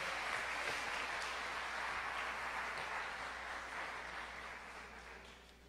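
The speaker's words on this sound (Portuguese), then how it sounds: "Quantos podem dar um aplauso a Jesus e dizer aleluia?" A church congregation applauds for Jesus during a sermon on forgiveness, a thick, sustained roar of many clapping hands that stays full and slowly tapers toward the end.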